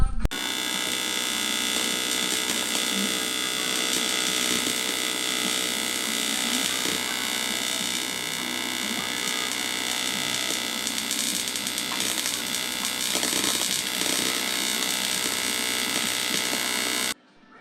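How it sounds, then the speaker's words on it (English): A catch tank for a JZ-engined Toyota Laurel is TIG welded with argon shielding, giving a steady, loud electrical buzz and hum that holds for about seventeen seconds before cutting off abruptly, with no talking. "But let's get to welding."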